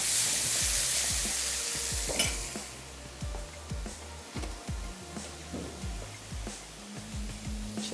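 Beef and tomatoes frying in a pan, an initial loud hiss settling into a softer sizzle while a round spoon scrapes and knocks repeatedly against the pan, with no talking.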